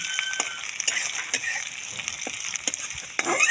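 Desi chicken frying in a pan makes a constant dense sizzle, close and fairly loud, with a few soft scrapes and taps of a stirring utensil and no talking.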